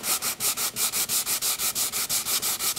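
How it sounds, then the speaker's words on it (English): Hand sanding a wooden box with a small block of wood wrapped in sandpaper, loud close rhythmic back-and-forth strokes, about five per second in steady repeating pulses with no talking. "This is another place where hand sanding is much more effective than trying to do it any other way."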